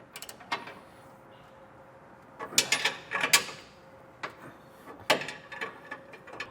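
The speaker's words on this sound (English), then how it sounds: "Now we'll come back through and snug down all of our hardware. We have an 1 1/8" wrench and an 1 1/8" socket and ratchet." A socket and ratchet tighten hardware on a Curt underbed OEM-style gooseneck trailer hitch. The clip has short bursts of quick ratcheting clicks with a few metallic clanks and pauses between them. The sounds are close and moderate in level, with no voices.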